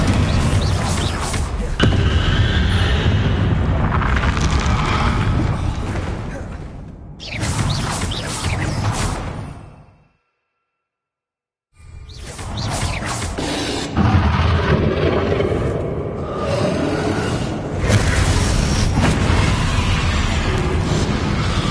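The Confringo explosive spell fires during Hogwarts Legacy combat amid loud, continuous game sound full of booms and whooshes, broken by a brief spell of silence before the battle noise resumes.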